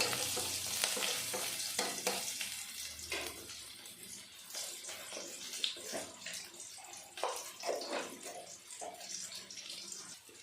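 Crushed garlic pieces frying with ivy gourd greens in a pan, giving a soft, continuous sizzle with irregular stirring scrapes and rustles, quiet and close.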